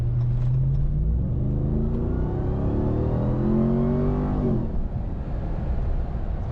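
A 6.2-litre supercharged car engine revving hard, a loud rising mechanical whine over deep engine roar that climbs steadily then drops off, heard from inside the car.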